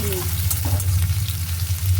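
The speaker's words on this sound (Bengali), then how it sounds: "রসুনটা একটু ভালো করে ভেজে নিই" Garlic fries in a pan with onion in a home kitchen, giving a steady close sizzle with a low hum beneath and a few faint clinks, no voices.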